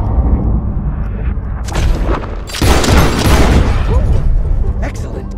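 Gunfire in Red Dead Redemption 2, a loud close shot bursting out with a heavy boom amid dense game noise and rumbling low end, with voices talking throughout.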